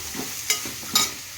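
Carrot, beans and capsicum fry in a pan under a soft continuous sizzle, with two sharp scraping strokes of a spatula stirring the vegetables.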